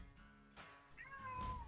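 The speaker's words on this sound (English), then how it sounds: "Stop ruining the mood, cat." A cat meows in a few rising and falling calls, fairly close and clear, with a brief rustle before them and no talk over the sound.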